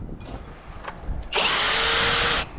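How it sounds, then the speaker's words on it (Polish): Impact driver on a construction site driving screws during formwork removal, a loud, close, steady whine lasting about a second after some quiet handling noises. "Do wkręcania używamy zakrętarki, do wykręcania używamy wkrętarki zwykłej."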